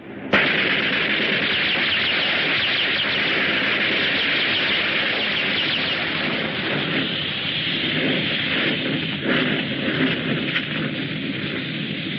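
A military squad opens fire in a 1966 monster film, unleashing a sudden loud blast followed by a dense, continuous roar of gunfire and explosions that stays sustained and heavy throughout.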